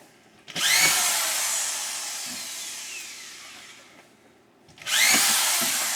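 A power drill drives screws into a drywall sheet in two long bursts. Each burst starts with a sharp whine that slowly winds down, and there is a short quiet gap between them. The drilling is close and loud, with no talking.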